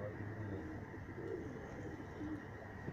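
Pigeons cooing among a flock that includes a newly caught black-and-white pigeon, soft repeated coos over a steady background hum, fairly faint and continuous.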